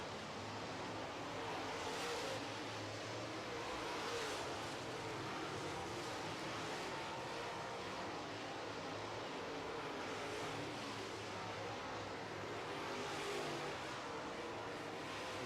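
Late model race cars run a night feature on a track, heard as a steady, distant engine roar that holds without a break. The sound is broad and washing, almost like surf.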